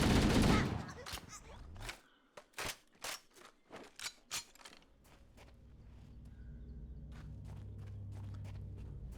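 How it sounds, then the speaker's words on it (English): Machine gun fire in Halo: Combat Evolved: a rapid string of sharp, close shots, about a dozen in quick rhythm, then a few scattered cracks trailing off over a low humming ambience. "So if you get close enough, this machine gun shreds."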